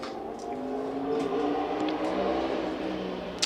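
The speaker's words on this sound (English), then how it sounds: "Someone racing home on a motorbike so they can listen to the commentary" A motorbike passes in the street near a cricket ground, its engine whine swelling and then fading over a few seconds, moderately loud, ending with a short click.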